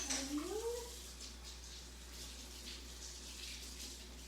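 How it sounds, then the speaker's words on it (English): Running tap water rinses a kitchen mandoline in a sink. There is a brief squeak at the start, then a faint, even patter of water that continues without pause. "We'll get this rinsed out."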